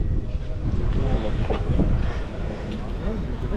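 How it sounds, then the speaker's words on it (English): Wind gusts across an outdoor old car show, a loud, steady rumble of buffeting against the microphone with faint speech mixed in underneath. "Still nice and windy though."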